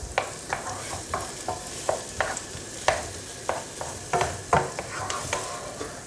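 Onions sizzling and frying in a pan with a little gravy added, with a steady sizzle under repeated sharp scrapes and stirs of a utensil against the pan at an uneven rhythm.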